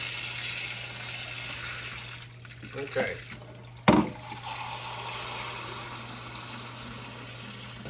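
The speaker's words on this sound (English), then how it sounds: "hot water, just hot water right out your sink" A steady rush of hot water runs from a sink tap throughout, with a brief word spoken and a couple of clattering knocks partway through.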